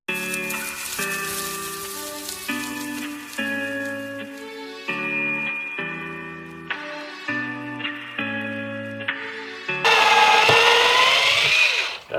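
Cordless drill drives screws to fix shelves down inside a VW Caddy van, giving a series of short, close motor whines that step up and down in pitch, ending in a harsher, louder burst.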